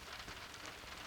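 Rain falling on a car, a steady close hiss of drops spattering across the body and glass, continuous and even with no voices.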